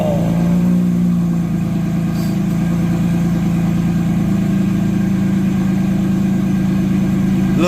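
A car engine, freshly worked on during a restoration, settles into a steady close idle with a low droning hum and faint rhythmic pulsing, loud and constant with no talk.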